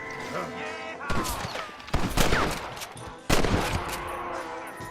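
Gunshots in the video game Red Dead Redemption, a few sharp, loud cracks with ringing tails over background music, one big shot near the end.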